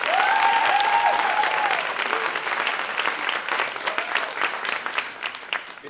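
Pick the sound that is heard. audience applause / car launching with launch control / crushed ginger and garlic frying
audience applause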